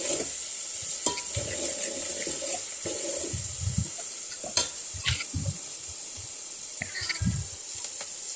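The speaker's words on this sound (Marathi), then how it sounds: "तेलामध्ये छान परतून घेते मी हे" Ginger garlic paste and onions sauté in oil, sizzling steadily while a spoon stirs and scrapes the pan in repeated bursts, close and moderately loud, with no voices.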